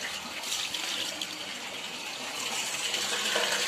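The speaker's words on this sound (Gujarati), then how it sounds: "પાણી ચાલુ કરી દીધું છે ટાંકામાં" Steady running water pours from a tap in a continuous, moderately loud hiss, with no talking.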